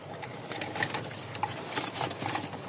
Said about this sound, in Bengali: এই দেখেন ডাক দেখলে বুঝতে পারবেন যে কবুতর গুলো ফুল হিটে আছে